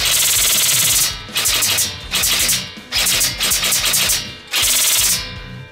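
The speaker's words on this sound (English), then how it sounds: "And if I want to, if I need to, I can just go full auto." A PDR-C rifle fires full auto in several loud, close bursts of rapid shots, each burst about a second long and separated by short pauses, with no voices.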